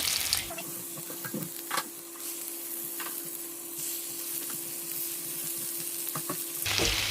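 Salmon pieces, some skin-on, fry in melted unsalted butter in a hot pan, giving a steady close sizzle with occasional clinks and stirring scrapes; no one speaks.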